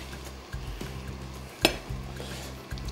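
Sarladaise potatoes tipped into a pan of goose fat beside duck breast, giving a soft steady sizzle with a few stirring scrapes and one sharp clink of utensil against pan.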